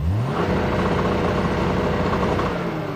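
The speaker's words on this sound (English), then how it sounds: "You can't rev this engine above what it ought to do." A 1971 car engine with fully electronic ignition is held at high revs against its electronic rev limiter, a loud, sustained, close-up roar with a slight stutter from cut firings.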